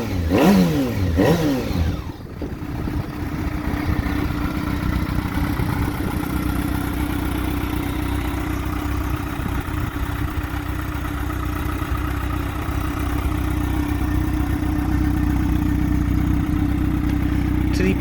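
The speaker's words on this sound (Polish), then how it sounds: "No dźwięk wydechu słychać, że to jest dźwięk taki rasowy" A Yamaha FZ6 motorcycle engine runs with a throaty exhaust rumble through dB killers, briefly revving at the start before settling into a steady, loud idle.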